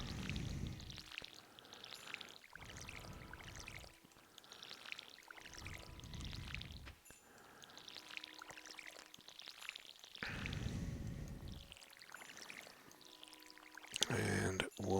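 Watering crops with a watering can in the farming video game Stardew Valley, several soft splashing pours in a repeating rhythm, each lasting about a second, fairly quiet.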